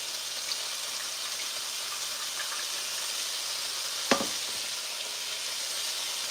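Onions fry in a pan with a steady, even sizzle and hiss throughout, broken only by a single sharp clink near the end, with no talking.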